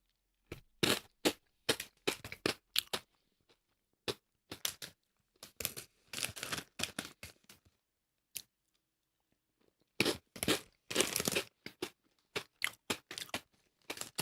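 Close, loud crunching and chewing on a salty, peppery snack in irregular bursts of crisp bites, with short quiet pauses between mouthfuls.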